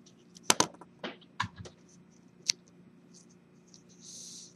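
Pen or marker sketching an angle diagram by hand, soft scratchy strokes and taps in short, uneven bursts, close and fairly quiet, ending in a longer smooth stroke.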